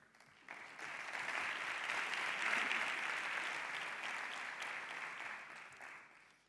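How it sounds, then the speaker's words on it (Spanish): Steady audience applause at a conference welcoming an agriculture official onstage, a dense wash of clapping that swells quickly, holds for several seconds and tapers off, with no talk over it. "Antonio Agúndez Rebollo, al que recibimos con este aplauso."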